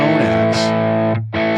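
Distorted electric guitar tone from a Tonex software tone model with boosted input trim, a sustained chord ringing loud and close, cut briefly and then struck again.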